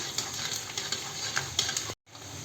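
Thin poha chivda ingredients fry in hot oil with a steady close sizzle and crackle, broken by light stirring clinks, then a brief cut to silence before the frying resumes.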